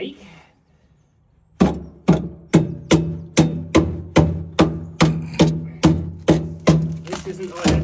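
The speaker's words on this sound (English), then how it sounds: "This is a snap-on hammer." Regular strikes from a Snap-on hammer on metal ring out one after another, about a dozen sharp, loud blows at a steady pace after a short silence.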